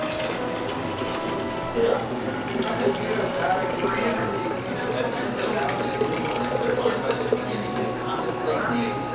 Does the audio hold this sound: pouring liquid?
yes